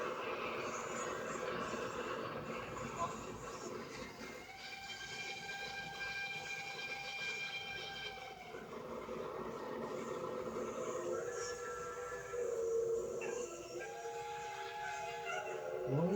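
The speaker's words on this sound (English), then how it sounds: "the fascinating machine that is employed when nothing else will clear the snow:" A heavy rotary snowplow train rumbles steadily with machinery churning as it clears snow, punctuated by several long horn or whistle blasts, one rising sharply near the end.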